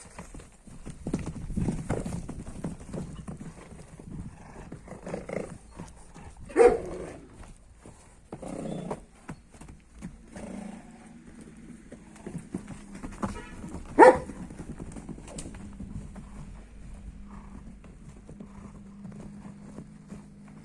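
Novoolexandrivsk draft mares' hooves clip-clop irregularly on hard ground over a long stretch, with occasional dog barks and a horse's whinny in the background.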